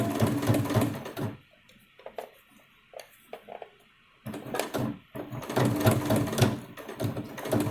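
Sewing machine stitching a fabric face mask with a removable nose wire, running in loud steady bursts with a quiet pause in the middle where faint clicks and handling sounds come through, then resuming strongly.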